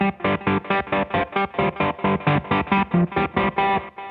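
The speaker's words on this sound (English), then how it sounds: "we can add a little bit of a filter to it, and with the kill switch and distortion, with just a little bit of delay" Electric guitar played through a Revpad wireless multi-effects unit with filter, distortion and a little delay, the kill switch chopping it into a fast, even stutter of loud bursts and gaps.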